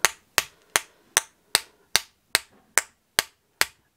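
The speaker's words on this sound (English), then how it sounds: "you take your bone folder and you're just whacking like that" A bone folder strikes hard at an angle against paper being spattered with scatter ink for a card: ten sharp, evenly spaced whacks, close and crisp, each dying away quickly, with no talking.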